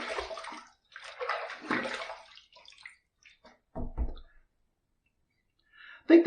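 Water running and splashing as a vintage Facon razor is rinsed after a shave, coming in short bursts with pauses and clicks of the razor between them.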